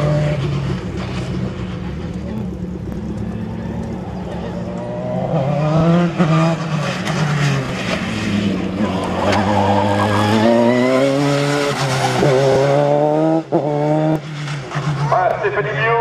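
Dallara single-seater race car at a slalom event at Le Neubourg, engine climbing and falling through a chicane with brief tire noise, under continuous French race commentary.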